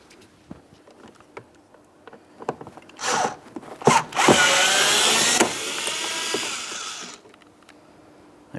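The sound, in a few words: removing a T20 torx screw from a car door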